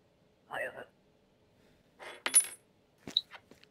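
Coins drop and clink in the Papers Please video game, a few sharp metallic impacts amid other short interface blips and sounds, fairly quiet with gaps of silence.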